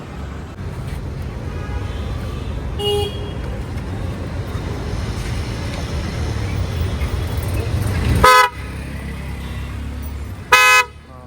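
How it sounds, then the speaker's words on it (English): A newly fitted horn on a car, installed during front-end work, gives two short loud honks near the end, heard over steady traffic and engine noise with faint voices in the background. "I wanted to change the horn of the car"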